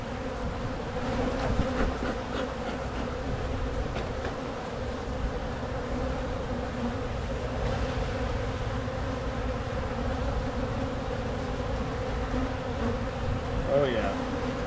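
A steady, full hum rises from a crowded colony of Italian honey bees in an open hive, close and continuous, with the dense buzzing drone barely varying in loudness throughout.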